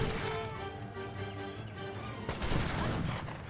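Musket volleys from Janissaries in an Age of Empires 3 battle, a faint, steady crackle of overlapping shots with a burst of heavier impacts near the end.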